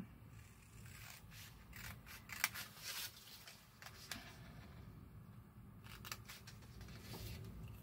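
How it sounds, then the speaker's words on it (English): Scissors snip through bubble mailer fabric with a series of short, crisp cuts and light scraping rustles, close and fairly quiet, with no talking. "I'm just going to snip this out."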